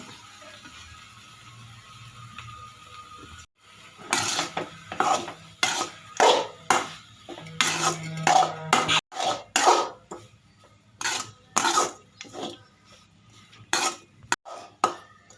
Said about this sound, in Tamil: இப்போ சாப்பாட்டை கொட்டி கிளறணும்.